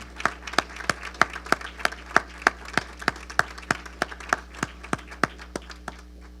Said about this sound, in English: Let's have a large round of applause for everybody here.